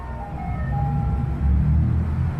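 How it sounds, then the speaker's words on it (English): An ice cream truck passes by, its jingle a thin high melody riding over a steady low road rumble of a vehicle engine, fairly close and continuous. "Check it out, an ice cream truck."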